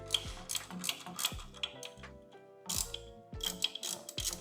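Turbo inlet clamp screws are tightened on a 2015-2021 Subaru WRX, with close, crisp ratcheting clicks in quick runs and short pauses between strokes.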